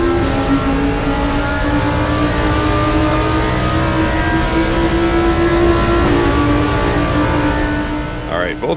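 GT2 race car engines roar loudly and continuously in RaceRoom, a rival car closing to overtake on the outside while the player's engine holds a steady high drone, with a brief shift near the end.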